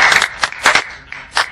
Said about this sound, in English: So you guys want to clap